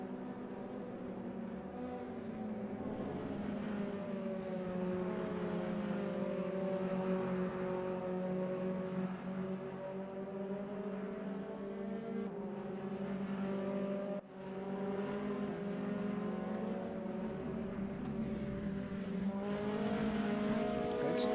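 Race car engines drone steadily through a sim racing game at Silverstone National, with sustained high-revving tones that shift gears slightly and dip briefly once before holding loud and constant for the whole stretch.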